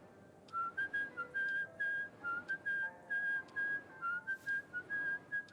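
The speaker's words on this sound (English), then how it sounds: "Whistle." Whistling from a character in the video game Rue Valley, a steady melodic tune of short rising and falling phrases repeated in an even rhythm over faint background ambience.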